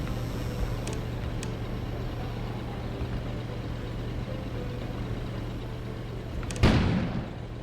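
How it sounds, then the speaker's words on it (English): In the video game Kona, an explosion goes off outside as a single muffled, distant boom with a brief rumbling tail near the end. Before it there is a low steady ambient hum. "An explosion suddenly occurred outside."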